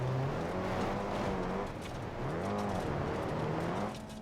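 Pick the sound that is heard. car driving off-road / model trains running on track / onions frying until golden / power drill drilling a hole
car driving off-road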